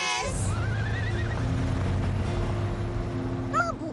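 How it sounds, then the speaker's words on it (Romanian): A cartoon horse gives a loud, wavering whinny, then a second shorter neigh near the end, set over a steady low musical drone. "Mă bucur că am întâlnit calul ăsta."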